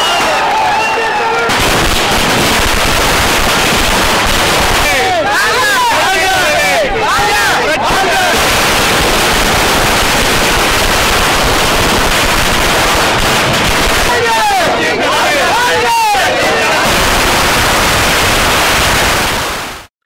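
Strings of firecrackers burst loudly and in rapid, dense crackling runs as crowds of political party supporters celebrate an election result outdoors, with crowd babble running underneath throughout.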